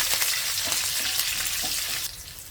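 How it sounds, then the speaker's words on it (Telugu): Green chilli pieces sizzle loudly in hot oil in a pan, a dense continuous frying hiss with faint stirring scrapes, easing slightly near the end. "ఈ పచ్చిమిర్చి ముక్కలు కూడా జస్ట్ ఒకసారి అలా ఫ్రై చేసుకోవాలి"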